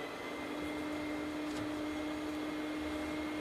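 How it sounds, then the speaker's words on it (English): Vacuum running for dust control during HVAC flue cleaning, a steady broadband whir with a constant tonal hum, unchanging and fairly faint, with no talk. "we're going to cut on our vacuum here"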